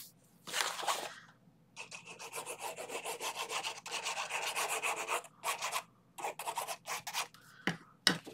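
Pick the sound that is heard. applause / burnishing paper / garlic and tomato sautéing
burnishing paper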